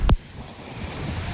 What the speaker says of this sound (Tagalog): Ang lakas ng alon. Tingnan nyo. Ang lakas ng waves.